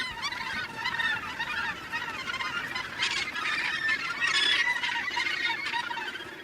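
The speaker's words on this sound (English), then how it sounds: "Just every little available space is taken up with gannets." Gannet colony on crowded sea cliffs: a dense, continuous chorus of harsh, grating calls that overlap and swell, loud and unbroken throughout.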